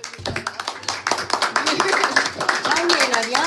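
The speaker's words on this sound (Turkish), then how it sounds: "Evet ya, bir alkış yapalım." Clapping from a small group at a Turkish engagement ceremony, a run of quick claps at close range, mixed with talking and chatter.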